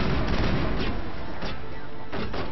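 Dense combat in Mass Effect: repeated gunfire and a booming explosion of a shot explosive, loud and muffled, with several blasts over constant rumbling noise.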